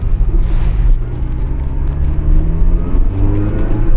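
A Ferrari 328 or 348 engine runs close and loud, its deep rumble swelling and falling through a couple of revs with no one speaking.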